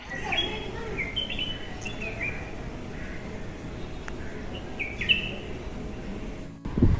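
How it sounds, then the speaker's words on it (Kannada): A bird calls with short chirps scattered over a steady outdoor background hiss, fairly distant, ending in a brief bump of handling noise. "ಹಕ್ಕಿ ಕೂಗ್ತಾ ಇತ್ತು ಅಂತ ವಿಡಿಯೋ ಮಾಡಿದ್ದೆ"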